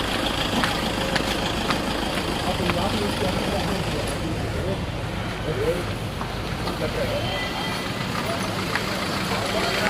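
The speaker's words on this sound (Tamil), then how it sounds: "பயங்கர டிராஃபிக்குங்க" Heavy road traffic on a hill-station road near the Pine Forest entry in Kodaikanal, with a steady, dense rumble of idling engines throughout and people talking over it.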